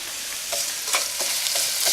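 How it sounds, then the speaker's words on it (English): Onions sizzle and crackle in a hot pan, a steady frying hiss with small pops, heard up close. "I can hear my onions."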